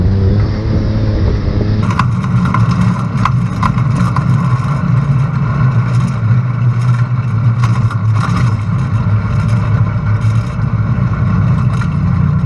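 Turbocharged Mitsubishi 3A92 engine with a Borg K03 turbo in a Chinese dune buggy, idling loudly close by before it revs up and holds a rough, steady roar with repeated throttle blips.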